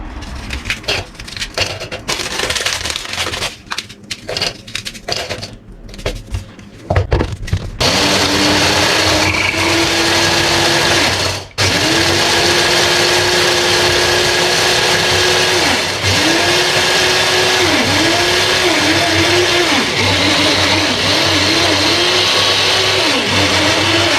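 A kitchen food processor blends crushed biscuits for a no-bake trileçe dessert. Several short loud pulses open the clip, then the motor settles into a sustained, loud whirring drone, briefly interrupted once, with rising and falling pitch as the load shifts.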